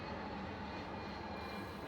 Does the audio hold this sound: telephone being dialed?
no